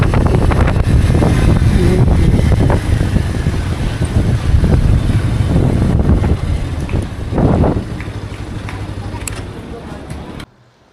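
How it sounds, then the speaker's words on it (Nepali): Strong wind gusting hard across the microphone in hilly terrain, a loud continuous roar with buffeting bursts that eases toward the end, with a voice speaking over it. "डेन्जर हावा उडिआइरहेछ भाइ"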